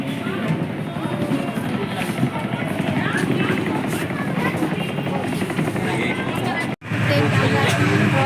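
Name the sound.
launch boat on the Ganges departing toward Mayapur ghat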